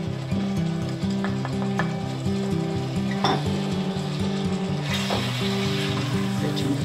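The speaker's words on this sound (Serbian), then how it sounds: "Sve ćemo to lepo da prodinstamo, da ukrčkamo." Green beans seasoned with sweet paprika and black pepper sauté in a pan, a soft sizzle with a few light utensil clicks under steady background music.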